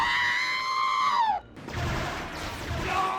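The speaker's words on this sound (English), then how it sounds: "That's not even mentioning the character death sound effects. So many of them are incredibly memorable." Cartoonish character death sound effects from the video game LEGO Star Wars: The Complete Saga, a loud falling squeal followed by a clattering burst of LEGO pieces breaking apart.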